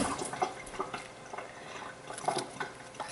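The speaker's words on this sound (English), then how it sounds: "I'm going to wash my broccoli off" Water runs steadily from a kitchen tap while broccoli is rinsed beneath it, with faint splashing and scattered drips close by and no talking.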